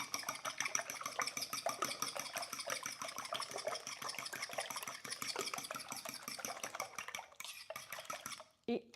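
Eggs whisked quickly in a bowl for a breakfast pie, heard as a fast, steady run of light metallic clicks and taps that continues for several seconds, fairly faint, then stops near the end with a brief clatter.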